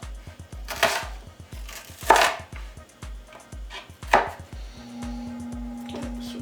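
Onions chopped with a knife on a board in a steady, fast rhythm of close, sharp taps, with a few louder scraping strokes and a faint tonal hum near the end.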